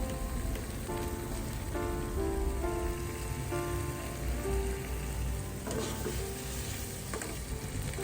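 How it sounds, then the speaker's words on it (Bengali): Soy sauce, tomato sauce, oregano and chilli flakes cooking in a pan give a steady close sizzle with scraping stirs over faint background music, no voices. "তো এখন আমি একটু সয়া সস, টমেটো সস, তারপর হচ্ছে অরিগ্যানো, তারপর চিলি ফ্লেক্স এগুলো দিয়ে দিব।"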